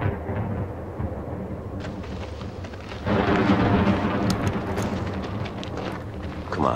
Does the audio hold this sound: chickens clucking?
no